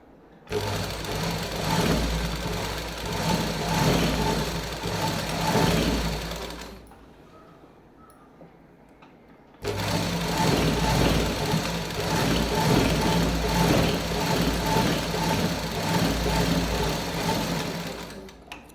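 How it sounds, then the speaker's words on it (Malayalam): An electric sewing machine stitches maxi dresses in a steady, loud mechanical whir, running for about seven seconds, pausing briefly, then starting again and running to the end; no one talks. "തയ്ക്കുക"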